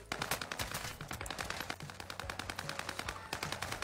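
Rapid, steady bursts of automatic gunfire in a shooter video game, close and loud with a dense rhythmic rattle throughout and no talk over it.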